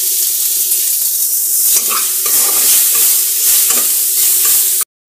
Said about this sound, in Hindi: नीम को फ्राई कर रहे हैं अच्छे से